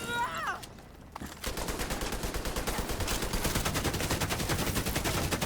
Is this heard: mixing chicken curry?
no